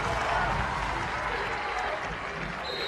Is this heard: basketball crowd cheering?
yes